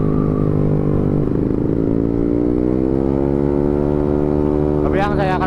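A motorcycle on a night ride near Lembang drones loudly up close, its engine note climbing steadily as it accelerates, with a voice breaking in briefly at the end.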